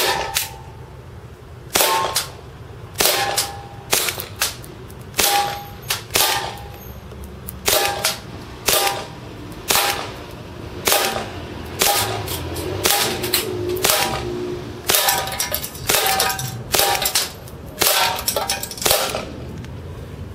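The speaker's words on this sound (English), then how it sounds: "Just one magazine, 17 rounds of .2s into the monster can," A BB pistol, an Army Detonics .45, fires a 17-round magazine of .20 BBs into a metal can about 15 feet away, giving a long series of sharp, close cracks with metallic clinks, spaced irregularly and without talk.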